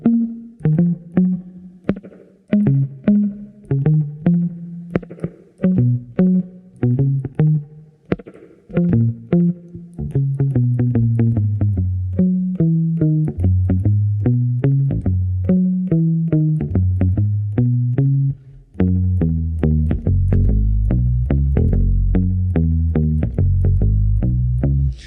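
Bass guitar on old strings, flat-picked with a pick through spring reverb with volume and tone fully up, playing a melodic line of distinct plucked notes that grows denser and louder toward the end, with no voices.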